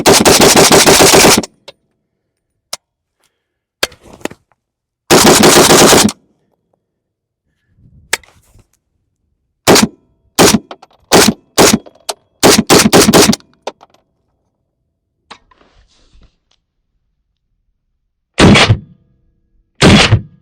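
PSA AK-103K rifle fired outdoors on a calm, windless day, loud sharp bursts and single shots in irregular groups separated by silent gaps, some rapid strings of several rounds.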